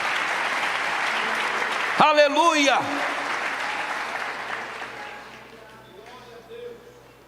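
Church congregation applauding at a worship service, a sustained clatter of clapping that swells briefly with a shout, then fades as a voice speaks over it.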